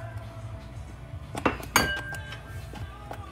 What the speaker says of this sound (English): Then we're going to mix this in.